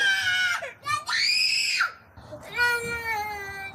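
A young child screams and cries in long, loud, high-pitched wails broken by short gasping pauses, very close, with an adult speaking softly in between.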